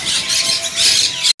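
Parrots squawk in a bird kiosk: a dense, continuous wash of harsh, shrill calls at close range with no speech, cutting off abruptly near the end.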